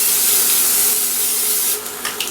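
A steady, close hiss of cooking oil spray onto a pan lasting about two seconds, then a few short bursts and a softer tail.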